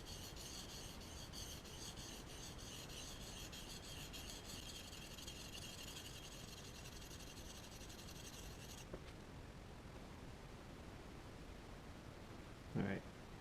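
A cut nail being sharpened on a whetstone makes a steady, quiet, even rasping of metal rubbed back and forth across stone, which stops partway through; a single brief knock follows near the end.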